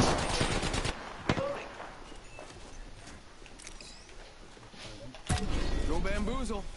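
Rapid automatic gunfire in an Apex Legends match, crackling steadily beneath ongoing talk with a sharp louder shot and a dense burst near the end.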